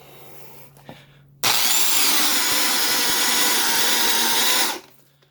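A Bauer Super Hawg 1/2-inch right-angle power drill whines loudly and steadily for about three seconds as it bores through wood, then spins down, with quieter background before and after.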